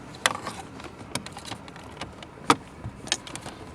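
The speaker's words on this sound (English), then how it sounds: "Set the whole shifter assembly back down." A car's shifter assembly is set back into place with scattered plastic clicks, taps and knocks, one sharper snap near the middle, close and moderately loud, no talking.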